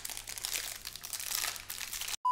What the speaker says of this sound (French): Dernière étape, avant la cuisson, on va ouvrir les paquets d'Oreo